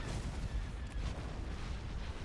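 A space fleet opens fire in Star Wars: Empire at War: a steady, dense rumbling barrage of cannon fire and blasts that is fairly quiet and runs unbroken, with no voices.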